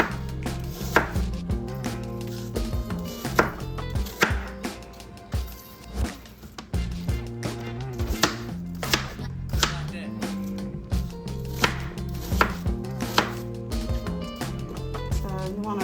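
A knife chopping apples into small pieces on a cutting board, a quick irregular series of sharp close-up thuds and taps coming in bursts, with a voice talking quietly in between.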